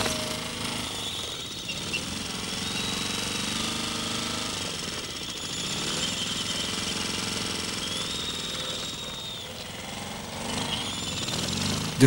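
A lawn mower cuts the short grass fields of Midway Island among nesting albatrosses, its steady engine drone running loud and continuous without a break.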